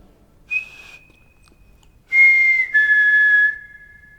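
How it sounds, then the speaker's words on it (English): A person whistles for a dog: two short tones, a brief note and then a longer two-part whistle with a pitch drop, clear and close with no talking. "Could you copy my whistle?"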